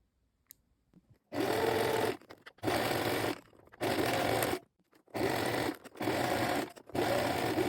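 Sewing machine stitching fabric straps 2 mm from the edge, running in loud bursts of about a second each with short pauses between, alone without talk.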